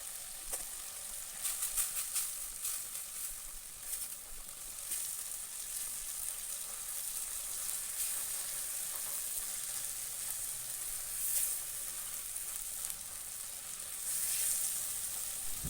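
Spice mix with half a spoon of meat masala frying in a pan for egg curry (dim bhuna), a quiet, steady sizzle with soft crackles and occasional stirring throughout, no talk.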